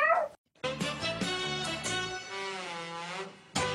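A voice imitates a cat's meow, a drawn-out, wavering nasal call sung close and clear, followed by a brief pause before another sound begins.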